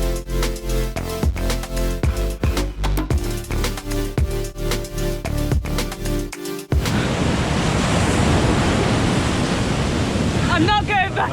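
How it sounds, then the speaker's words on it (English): Choppy sea waves roll onto the beach at Cabo de Gata in Spain with a loud, continuous roar of surf and wind buffeting the microphone. Rhythmic music plays before the waves take over. "It's been fun splashing around in the waves."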